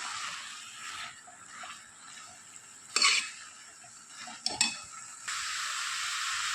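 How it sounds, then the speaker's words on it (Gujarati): Bottle gourd halwa cooking in ghee sizzles steadily in a pan while being stirred, with two sharp metal clinks of a spoon against the pan partway through. "પછી આપણે આ રીતે બેથી ત્રણ મિનિટ માટે હલાવતું રહેવાનું છે"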